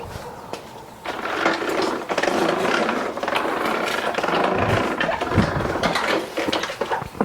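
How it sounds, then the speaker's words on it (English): Rear wheels of a heavy Exmark mower rolling a few inches on concrete, giving a continuous gritty crunching and grinding with clicking ratchet-like detail, close and moderately loud for several seconds. "there's a whole lot of crunchiness going on in there"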